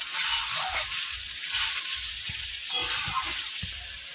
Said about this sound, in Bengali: আস্তে আস্তে এটাকে এখন ভালো করে কষিয়ে নেবো